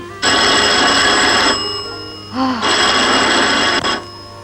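A vintage 1950s telephone rings loudly in two long bursts separated by a short pause, close and clear, with a brief sound in the gap between rings.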